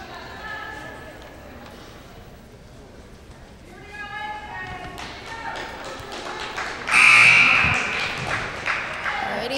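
An end-of-quarter buzzer sounds loudly at a girls' high school basketball game in a gym, a sustained electronic tone cutting over sneaker squeaks, crowd noise and ongoing commentary.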